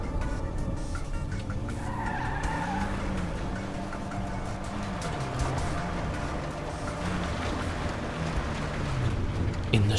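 Vulcar Warrener car in GTA 5 sliding across snow, its engine droning steadily with wavering pitch and tyres skidding throughout, continuous and fairly loud with a rev rise near the end.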